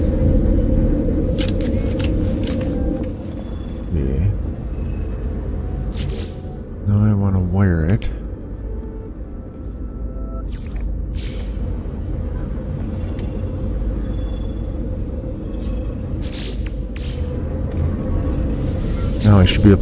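A storm roars across a planet in the video game No Man's Sky. The roar is loud and continuous, a rumbling wind that holds throughout, with brief interface blips and clicks cutting through now and then.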